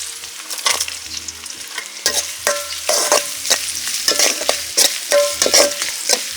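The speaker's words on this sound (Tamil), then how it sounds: "வெங்காயம் போட்டுக்கலாங்கண்ணே பச்சை மிளகாயும் வரமிளகாயும் போட்டுக்கலாங்கண்ணே" Onions with green and red chilies fry in a pan for a goat boti gravy, bright sizzling crackle under repeated close stirring scrapes and knocks of a spoon.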